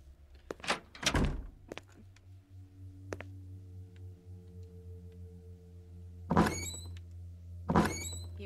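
Drawers and cabinet doors in the horror game Five Nights of Nightmare thump and slide open in several separate knocks, with a couple of louder scraping clunks near the end over a low steady hum.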